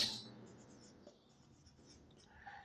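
Marker or chalk writing on a classroom board during an accounting lecture, soft close scratchy strokes that come in short bursts in a quiet room with no speech.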